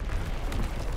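A bomb explodes in an online video game, producing a brief, loud, booming rumble that fills the moment.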